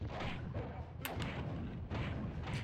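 A bomb goes off in the fantasy action game Gauntlet Legends, a few muffled thumping blasts with a brief sharp crack, fairly quiet amid busy game noise.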